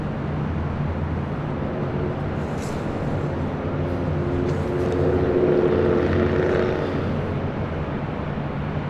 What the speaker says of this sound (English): Southwest Airlines flight 938 coming in from Sacramento,